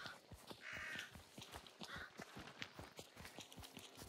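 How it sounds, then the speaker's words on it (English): Crows cawing in the hunting video game Hunt, faint and distant under a steady run of footsteps and hoof-like clops, with repeated short calls through the scene. "you know how you could, like, barely hear those crows?"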